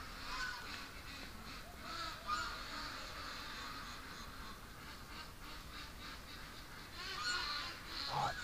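Ducks and geese honk and quack in a steady, busy chorus outdoors, calls overlapping throughout, with a louder burst of honking near the end.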